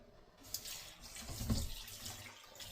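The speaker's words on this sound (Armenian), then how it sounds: "հիմա ջրի տակ դրել էի միս, լվանամ, լցնեմ կաթսան" Tap water runs steadily into a sink, splashing unevenly as meat is rinsed under the stream, with a fuller gush midway.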